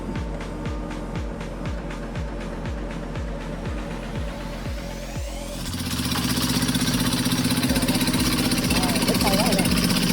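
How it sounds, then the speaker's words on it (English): Modified farm truck with a small original engine of around 13 horsepower, hauling a heavy log trailer up a steep forest slope; a rapid, steady thumping engine beat gives way to a louder, harder-working roar as it strains, close and continuous. "The modified farm truck is trying to pull a mountain of wood up the steep slope."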